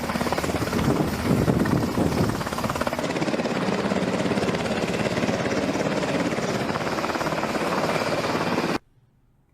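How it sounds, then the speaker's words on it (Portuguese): A Black Hawk military helicopter flies overhead with a loud, continuous rotor roar and thumping churn, steady for nearly nine seconds before cutting off abruptly into near silence. "O helicóptero, para que você tenha uma ideia, mais usado nessas operações é sempre o Black Hawk."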